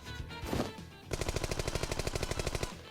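Video game gunfire: a burst of noise, then rapid automatic shots in a steady rhythm for about two seconds, loud and close, no voices.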